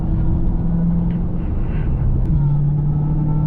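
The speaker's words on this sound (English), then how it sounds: "Listen to the whine. I'm only doing 50 miles an hour and it's there." A 2023 Dodge Charger Hellcat cruising at 50 mph gives a steady, close engine drone and rumble from inside the cabin, with a faint high whine running throughout.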